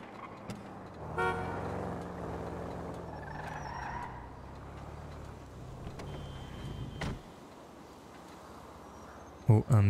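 In a role-play video game, a car rolls up and parks with a low engine drone that fades and cuts off, crickets chirping faintly in the background and a short burst of clatter at the end; a voice speaks briefly.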